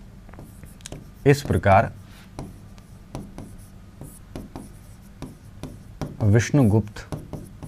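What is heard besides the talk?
writing by hand during a lesson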